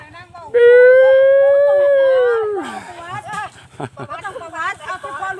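A dog lets out one long, loud, drawn-out howl that slides downward and fades, followed by someone talking.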